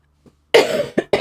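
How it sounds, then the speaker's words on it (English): A loud, close cough followed by two shorter coughs in quick succession, after a brief faint sound and a moment of silence. "I don't know if you hear the coughing"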